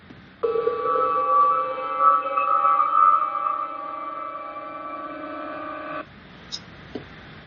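Star Trek transporter beam effect: a sustained shimmering, bell-like harmonic tone with a wavering sparkle that swells for several seconds, fades slightly, then cuts off abruptly, followed by a couple of faint soft clicks.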